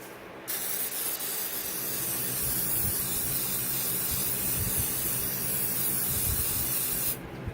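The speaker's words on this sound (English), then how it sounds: "I gotta spray it with, remember I told you I needed the cooking spray?" A steady hiss of aerosol cooking spray lasts about seven seconds, close and fairly quiet, starting and stopping cleanly.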